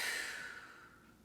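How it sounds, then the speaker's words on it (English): One long, slow exhale of breath during a relaxing vocal warm-up, a soft airy rush that starts strong and gradually fades over about a second, close and alone. "Let's take one last long inhale and exhale all of that out."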